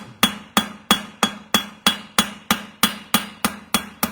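A horseshoe is hammered against the edge of an anvil to shape the heel: about a dozen sharp, ringing metal blows land at a steady, even pace, close and loud, each decaying briefly before the next, with no talking.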